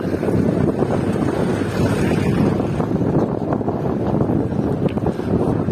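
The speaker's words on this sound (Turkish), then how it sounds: "Rüzgara karşı gidiyorum ve devamlı rampa çıkıyorum bro." Strong wind buffets a cyclist riding uphill into a headwind during a storm on a bicycle tour of Turkey, a steady loud rushing roar with no breaks and no voices.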